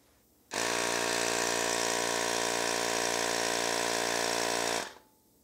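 A Ryobi air pump inflates a bike tire in sped-up footage, a loud steady motor buzz that starts abruptly, holds unchanged for over four seconds and then cuts off, close and alone.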